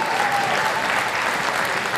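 Audience applause at a high school orchestra concert in a performing arts center, a steady dense wash of many hands clapping throughout with no break.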